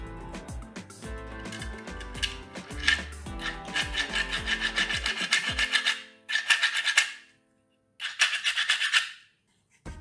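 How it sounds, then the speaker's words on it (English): 3D printed plastic parts of a magnet insertion tool being sanded by hand, with rapid rhythmic rasping strokes, close and fairly loud, breaking into a few separate bursts with short pauses near the end. "If not, then sand the parts until they do."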